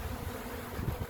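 A honey bee swarm buzzes around a trap box near a tree, giving a steady, close, low droning hum that swells slightly toward the end, with no voices.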